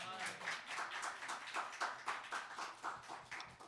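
Audience at a poetry night clapping and cheering in a steady burst of applause, dense and fairly close throughout, with voices mixed into the crowd noise.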